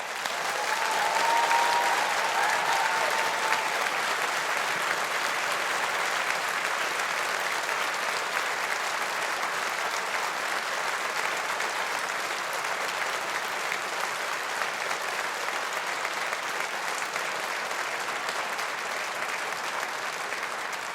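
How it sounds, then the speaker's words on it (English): A graduation ceremony audience at a Faculty of Engineering gives sustained, even applause in a large hall, a dense continuous clapping that holds steady for the full stretch. "Let's give our graduates a big round of applause."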